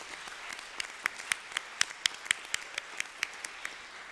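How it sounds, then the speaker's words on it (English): Applause from a crowd at a high school academic awards ceremony, with many hands clapping in an irregular patter and a few sharper claps standing out, moderately loud. "give your parents another round of applause"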